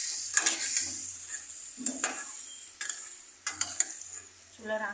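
Snakehead fish sizzles steadily as it is sautéed in a pan, with sharp scrapes and clatters from stirring breaking through every second or so, close and fairly loud with no voices.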